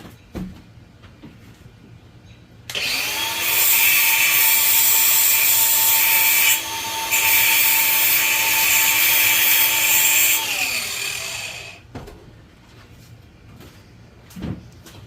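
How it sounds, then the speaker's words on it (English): Wire wheel spinning against bolt threads during a Honda CB750 turbocharged engine build, a loud steady whine lasting about eight seconds with a short dip midway, then spinning down, with quiet shop sounds before and after. "Clean them up with my wire wheel"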